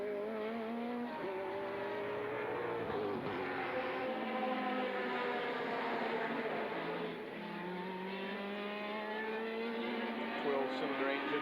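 A 1988 sports prototype race car at Sandown is pushed hard at race pace on full tanks, its engine howling continuously and close by, with rising and falling revs and a commentator talking over it throughout.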